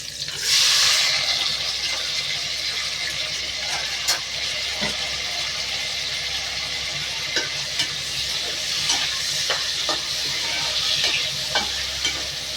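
Onions, tomatoes and three green chillies sauté in a mix of oil and ghee, giving a loud, close, continuous sizzle with occasional spoon scrapes and clinks and no speech.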